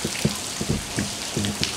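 Rain in a tropical storm falls as scattered drops and patters on a surface, steady and fairly close, with brief louder taps standing out against a constant hiss.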